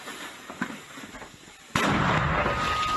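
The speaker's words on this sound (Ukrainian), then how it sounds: "120-й міномет майже не замовкає" A single sharp, loud 120 mm mortar shot cracks out after a quieter stretch of outdoor noise, followed by a long reverberating roar.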